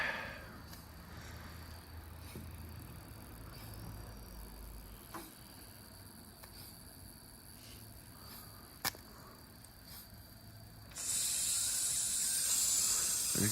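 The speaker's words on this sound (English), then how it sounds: "So you can see steam starting to come out." Steam hisses steadily from a Mamod Brunel toy steam locomotive, a faint continuous breathy wash with a few small clicks, growing noticeably louder and brighter toward the end.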